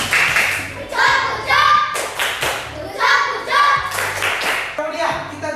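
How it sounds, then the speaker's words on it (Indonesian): A classroom of children does a rhythmic clapping chant, loud patterned claps and thumps in repeated bursts mixed with children's chanting voices. "Kita kasih tepuk gojok."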